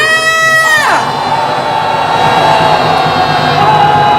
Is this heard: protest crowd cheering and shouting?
yes